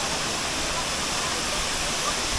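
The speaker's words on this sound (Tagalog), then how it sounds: "maganda dahil napakataas ng waterfalls guys" Steady, dense roar of a tall waterfall at New Rizal Falls in Roxas, Palawan, a broad continuous rush of falling water with no talking.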